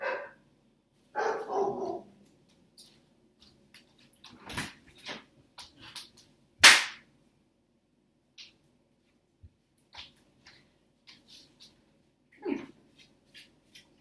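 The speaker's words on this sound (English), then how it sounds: "Who are you barking at?" A pet dog barks during a quiet yoga session at home, a few sharp separate barks scattered across otherwise near-silent room tone, one louder bark standing out midway.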